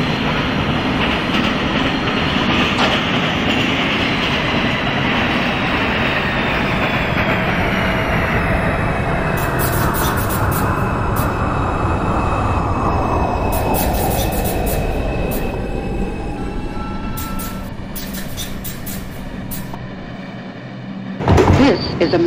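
A Manhattan-bound 2 subway train runs through the New York City tunnels, a loud roaring rumble with rhythmic wheel clatter that gradually winds down as it slows, ending with chimes and door sounds near the stop.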